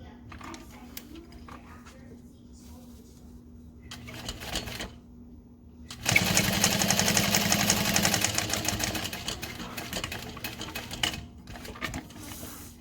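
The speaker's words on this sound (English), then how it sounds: "We're gonna top stitch across the top" A sewing machine top stitches across the top of a backpack at a long stitch length, with brief scattered stitching early on, then a loud sustained run of several seconds before it stops.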